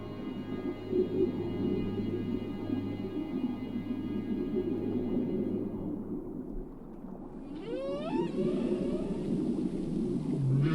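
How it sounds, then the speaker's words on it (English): A humpback whale sings underwater off Baja, with long rising and falling moans and upsweeping calls over a steady low rumble, growing more active toward the end. "The humpback whale's song is the most complex in the animal kingdom."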